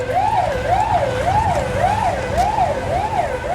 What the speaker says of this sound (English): A Soviet ambulance on the way to an emergency speeds through the streets of Tallinn